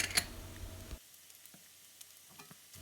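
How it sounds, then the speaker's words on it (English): Dried shrimp and mushrooms stir-fry over medium heat in a pan, with a sharp sizzling burst for about a second, then near quiet broken by a few faint clicks and scrapes. "put the dry shrimps in there and mix it around"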